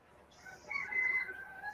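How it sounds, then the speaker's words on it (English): A rooster crowing on a porch gives one drawn-out, mid-distance call that rises and holds over a steady outdoor background, with no talking. "that rooster she's got out here on the porch and the one on her phone sound exactly the same"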